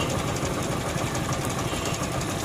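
A Hero Honda Splendor motorcycle engine with an abnormal noise runs steadily close by, a dense, even mechanical clatter and hum with no talk over it.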